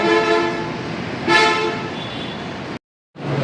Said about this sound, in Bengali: এখানে অনেক অটো রিক্সা আছে যারা বাগবাড়ির থেকে আসে